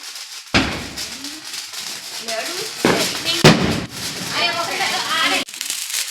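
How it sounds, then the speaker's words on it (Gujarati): Diwali firecrackers bursting outdoors among neighbours, several sharp loud bangs with crackling tails close by, people talking and calling out between the blasts. "હાલો આવી જાવ ફટાકડા ફોડવા હોય"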